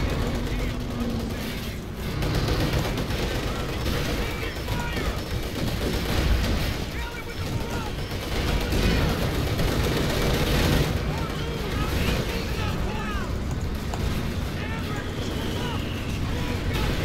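Rifle gunfire in the Company of Heroes 2 wartime strategy game, dense overlapping battlefield shots and crackling fusillades under steady wind-like noise, continuous and loud throughout with a voice talking over it.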